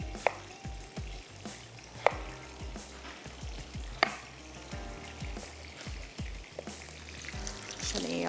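Onions and potatoes fry in a pan with a continuous close sizzle, broken by repeated sharp clinks and scrapes of a utensil stirring against the pan.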